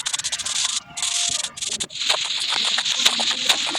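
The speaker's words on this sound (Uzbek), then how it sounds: "men bu yerda o'zimga uy qurish uchun ortiqcha yerlarni qazyapman" Dirt blocks being dug out in Minecraft to clear ground for a house, heard as a steady run of scraping, crumbly digging hits close by, with brief pauses early and then continuous chopping crunches, no talking.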